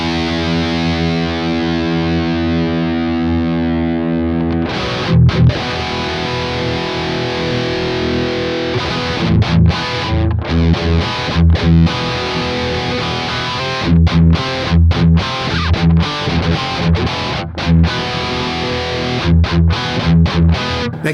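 Loud distorted electric guitar: a sustained heavy chord rings out, then choppy, palm-muted riffing with sharp rhythmic stops.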